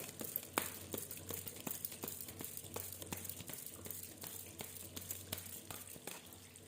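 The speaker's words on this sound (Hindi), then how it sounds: "I'm just shuffling right now." A deck of cards being shuffled nearby, quiet, with soft crinkly riffles and rapid repeated taps and flicks running steadily throughout and no speech.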